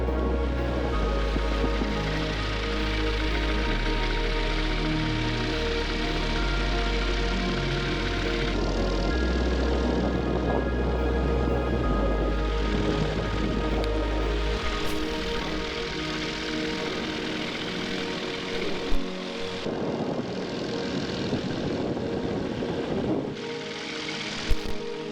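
A paramotor engine drones loudly in flight over a constant rush of wind. About midway the engine is throttled back toward idle, its deep hum thinning out, and a few brief knocks follow. There is no talking.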